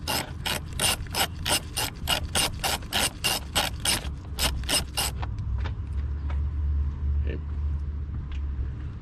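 A ratchet loosens a bolt on the engine air filter box of a Toyota Camry, giving a close, loud run of evenly spaced clicks that stops partway, followed by quieter handling noises.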